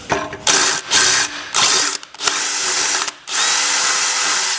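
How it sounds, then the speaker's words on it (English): Power drill boring into a rosewood handle during pipe forging work, several loud whining bursts with short pauses between them, close up and with no talk. "What we're going to do here is we're just going to drill it out."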